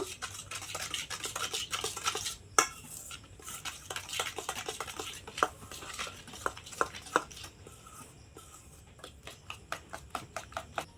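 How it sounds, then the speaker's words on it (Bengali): Eggs with sugar and salt are beaten in a bowl for a pitha batter, giving a quick, uneven run of close metal-on-bowl clicks and scrapes with no talking. "চিনি, লবণ, ডিম ভালো করে আমি ফুটিয়ে নেব।"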